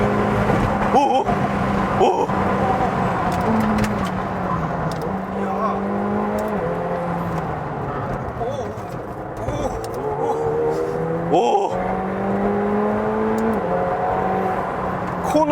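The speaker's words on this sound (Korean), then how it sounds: "이렇게 엔진 RPM이 쫙 올라갈 때요" A McLaren 720S sports car engine revs hard to 7,000-8,000 rpm, its whining pitch climbing repeatedly through the gears in a sustained, loud roar heard from inside.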